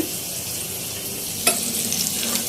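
Half-cooked brain bhuna fries in a pan with a steady, close sizzle. One brief scrape of stirring comes partway through, and there is no talk.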